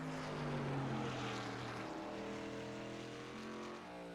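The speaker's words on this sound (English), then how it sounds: "he's slinging that truck left and right, trying to get as much rotation as he can" A race truck at the Georgia Mountain Fairgrounds Watkins track in a truck series race, being slung left and right through corners: a faint, steady engine drone with shifting harmonic pitch, heard from some distance with no talk.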